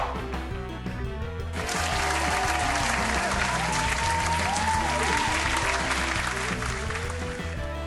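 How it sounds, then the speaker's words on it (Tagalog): Audience applause at a family gathering, a dense steady clapping that swells after the first second and holds loud throughout, with music and faint voices underneath. "Palakpakan naman natin sila."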